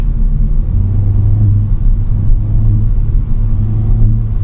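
A 2020 Cupra 290 with DSG gearbox accelerating in sport mode, a steady low engine rumble and road drone heard from inside the cabin, loud and continuous.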